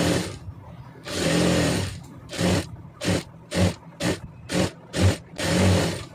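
A sewing machine stitches a blouse in a string of about nine short, close bursts, starting with longer runs and then quick, evenly spaced stitching spurts separated by brief pauses.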